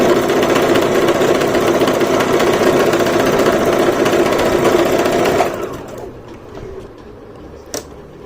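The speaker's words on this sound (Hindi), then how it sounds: "ये मैं सीधी तरफ से ही लगा रही हूँ इसकी किनारे पे सिलाई" A Brother GS1700 sewing machine stitches along a fabric edge with a loud, steady rapid whir for about five seconds, then stops, leaving quiet handling noises and a small click.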